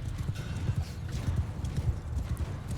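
Horse in Mount & Blade II: Bannerlord battle, hooves clip-clopping in a steady rapid galloping rhythm, loud and close, with busy battle noise behind.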